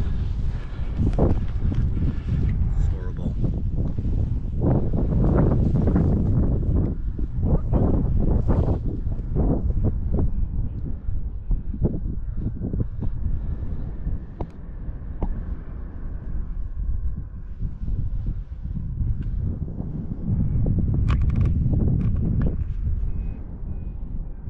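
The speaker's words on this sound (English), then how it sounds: "the wind's picking up" Strong wind buffets the microphone on a paragliding hill, heavy low rumbling gusts that surge and ease over a long stretch, with a faint intermittent beeping in the background.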